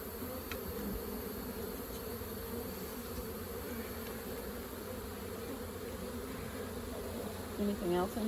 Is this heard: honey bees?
yes